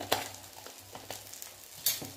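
Spices and masala, including black masala, garam masala, turmeric and salt, sizzling in a pan while being stirred, with soft scraping strokes and a few sharper clinks over a quiet fry.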